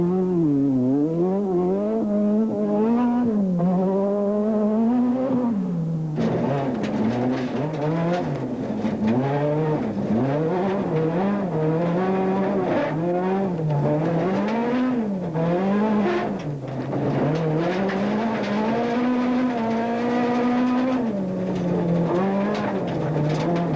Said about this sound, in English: he powered the Toyota through the forests he knows so well